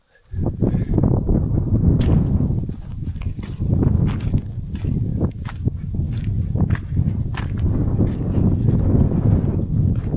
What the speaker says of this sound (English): you can hear how windy it is here